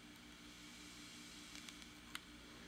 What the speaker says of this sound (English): It's white noise, and then it's just more white noise as you turn it up.